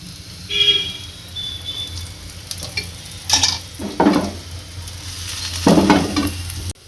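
Crispy potato pancake frying in oil in a pan after being flipped, with a steady soft sizzle under occasional louder scraping and stirring bursts, close and moderately loud with no talking.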